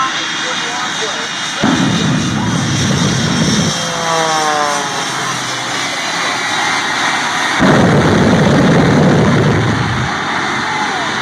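A 75-foot-long plane flies at the Thunder in the Valley airshow with a loud, roaring jet engine that swells and recedes in waves. An announcer's voice and outdoor commotion sit over the engine noise.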